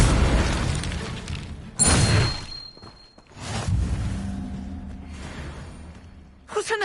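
An Incendio fire spell goes off in Hogwarts Legacy, with a sharp whooshing burst followed by booming, rumbling combat effects and a further burst at the end.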